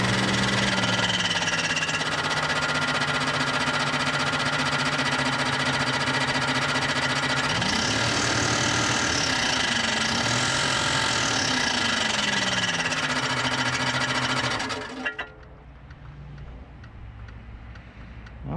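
Abnormal rhythmic ticking and knocking from the running engine of a 1998 Jeep Cherokee XJ pulled from a barn, loud and close, holding steady for about fifteen seconds before the engine cuts off, leaving quieter background noise.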